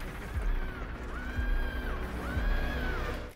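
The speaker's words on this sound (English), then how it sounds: "That sounds like SpongeBob screaming." Scream woven into the music of an album, rising voice-like wails sliding upward twice over a thick, sustained musical backdrop with low thumps.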